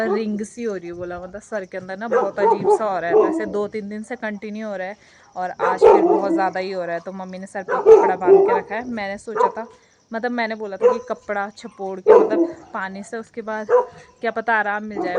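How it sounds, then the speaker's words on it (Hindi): Dogs bark off and on in the background at a rural Indian home, mostly buried under a woman's continuous conversational speech. "बाकी कुत्ते भौंक रहे"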